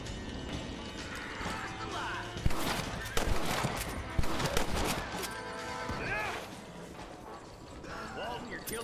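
Gunfire in the Western video game Red Dead Redemption, several sharp shots cracking out amid a dense, busy game soundscape with horse noises, under continuous talk.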